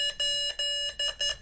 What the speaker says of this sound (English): It also has some tools. It has an alarm, an SOS alarm,